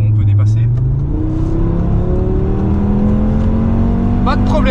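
A 2018 Audi RS3 with a 400 hp engine accelerates hard to overtake on an open road, its loud in-cabin engine note climbing through the revs, with a voice talking over it.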